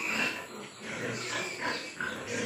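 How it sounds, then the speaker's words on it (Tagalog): Five pigs, sows and piglets, grunt and squeal softly in a close, busy pen, several animals making overlapping snuffling noises. "Limang baboy, ayan."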